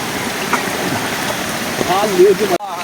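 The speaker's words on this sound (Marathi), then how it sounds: "वीरा पाण्यात कसं वाटतंय धबधब्यामध्ये." Constant rushing water, like a waterfall close by, with faint voices mixed in beneath the roar.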